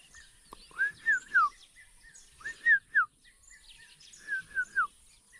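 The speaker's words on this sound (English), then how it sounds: "We have a bird that's chanting down there." A bird sings on a quiet morning in an African village, repeating a clear, rising and falling whistled phrase three times at a moderate distance, with pauses between phrases.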